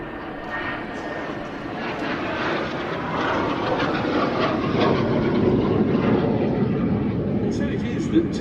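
Aircraft at an airshow flying in towards the crowd, a jet roar that grows gradually louder as it approaches, under a commentator's voice.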